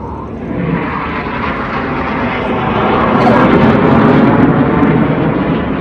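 RAF Red Arrows display jets performing a rollbacks manoeuvre at the Blackpool Airshow 2025, a loud, steady, broadband jet roar that swells slightly louder midway and holds without a break.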